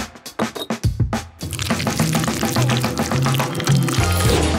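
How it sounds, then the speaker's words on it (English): Liquid gelatin and sugar marshmallow mixture is pushed from a syringe into tubes, a continuous wet filling and gurgling sound after a few sharp drips and taps, close and steady. "I'll put it in a syringe and pour it inside the tubes."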